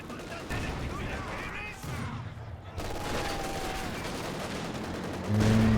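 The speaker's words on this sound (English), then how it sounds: "And have to use the MG here." Machine gun fire in a wartime strategy video game, with dense bursts of rapid gunfire and scattered shots running almost nonstop, some distant and some closer, under a busy battle soundscape and a louder tone near the end.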